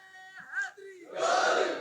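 A crowd at a religious speech by Allama Khan Muhammad roars a slogan in unison, rising to a loud, sustained shout after a lead voice calls it out.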